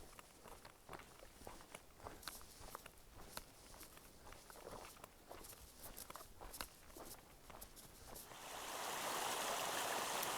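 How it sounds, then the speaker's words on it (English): A small stream flows across a hiking trail on the Pacific Crest Trail. Footsteps crunch and tap close by for most of the stretch, then a steady rushing of water rises and fills the end. "got this beautiful little stream flowing right across the trail"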